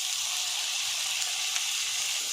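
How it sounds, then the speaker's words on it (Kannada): Chopped tomato sizzles steadily in a pan with browned onion and ginger garlic paste, a continuous bright frying hiss at an even level with no pauses. "ಇದನ್ನು ಸ್ವಲ್ಪ ಫ್ರೈ ಮಾಡ್ಕೋಬೇಕು."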